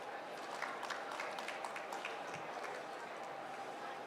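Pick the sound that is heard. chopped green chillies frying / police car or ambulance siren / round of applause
round of applause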